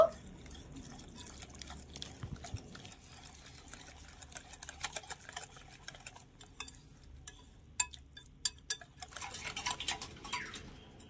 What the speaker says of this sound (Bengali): এবারে একটু ভালোভাবে একটা হুইস্ক দিয়ে মিশিয়ে নেব।